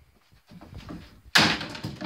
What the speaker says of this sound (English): Here, let me use the sledge.